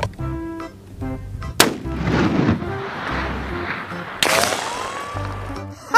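Sniper rifle fire in the video game Jurassic World Evolution 2, two loud, booming shots a few seconds apart, each with a rumbling tail over game background sound.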